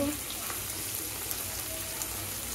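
Ginger and garlic paste with chili powder frying in a pan for a green chili chicken curry, giving a steady close sizzle and crackle that holds at an even level throughout.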